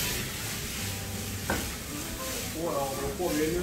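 Crispy pork dry-stirs in a pan with chili and salt, a soft steady sizzle with a scrape of the spatula midway, and a voice speaking briefly near the end.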